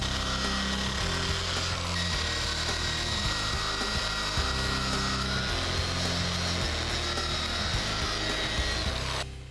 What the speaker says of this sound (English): Now I like to use these bristle discs better than sandpaper because they won't dull out like sandpaper